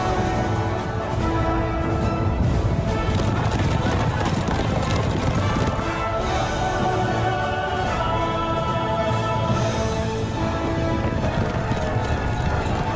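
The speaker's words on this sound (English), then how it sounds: "I love the sound of horses galloping in a massive charge." A massive cavalry charge in Kingdom Come Deliverance 2, dense thundering hooves of many galloping horses filling the scene loudly and continuously, with clattering gear and battle noise.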